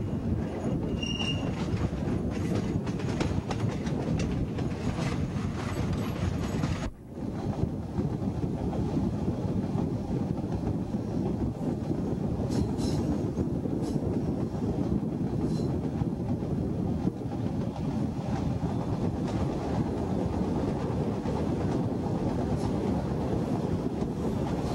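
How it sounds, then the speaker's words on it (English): A southbound Chicago CTA subway train, an older 6000-series car running express on the main line, roars past continuously and loudly at close range, with steady rumbling wheels, occasional squeals and a brief dip partway through. "a southbound subway train"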